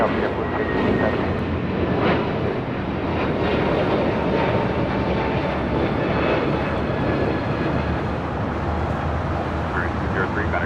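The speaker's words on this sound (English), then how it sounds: "That was Spirit Airlines Flight 203 heading to Charlotte on their brand new A321neo" A Spirit Airlines Airbus A321neo jet departing LAX, a steady loud engine roar sustained throughout without letup, with radio chatter and voices talking over it.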